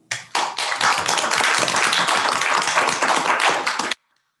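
Audience applause at a board meeting: a dense, steady burst of many hands clapping that holds for about four seconds and then stops abruptly, with no voices.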